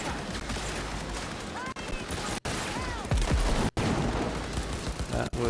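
Rapid, loud gunfire from Cyberpunk 2077 rattles in dense bursts with brief gaps, while someone talks over the shooting.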